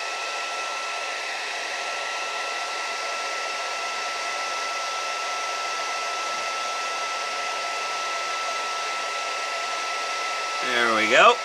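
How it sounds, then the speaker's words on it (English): Makita heat gun blowing hot air, a steady close whooshing drone with a whining tone that holds evenly for about ten seconds, then cuts off with a short falling pitch sweep. "get a little more Makita heat gun action going"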